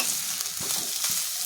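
Grated coconut frying in hot oil in a pan gives a steady, soft sizzle with a couple of brief stirring scrapes, fairly quiet and close.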